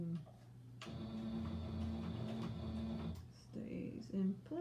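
Sewing machine back stitching, a steady close motor whir for about two seconds before stopping, with soft handling noises afterward.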